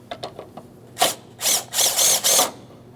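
A ratchet wrench takes out a 13mm lower door hinge mounting bolt on a 2008-2016 Chrysler Town & Country. A few quick clicks come first, then several loud, sustained ratcheting bursts in a rhythmic series, close and clear, with no talking.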